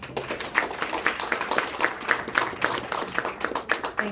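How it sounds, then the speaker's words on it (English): Audience applause at a talk on the 2017 total solar eclipse, a steady dense patter of many hands clapping throughout, fairly loud and sustained with no voices over it. "would you help me join in another round of applause for Henry and his team?"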